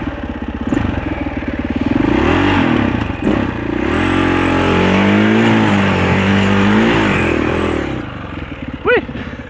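A 650 four-stroke enduro dirt bike pulls away up close, its engine rising through revs in a steady loud drone with gear changes, loud and alone on a trail ride.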